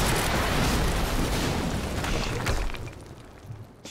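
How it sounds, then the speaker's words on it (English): A loud, sustained explosion roars in the video game Quantum Break, a dense rumbling blast that stays heavy for a couple of seconds before slowly fading out. "HQ, we just heard an explosion near the harvesting perimeter."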